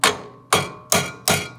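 A hammer raps a screwdriver wedged under the flywheel of a Tecumseh horizontal-shaft 8–13 HP engine, four sharp, ringing metallic strikes at an even pace, close and loud, with no voices.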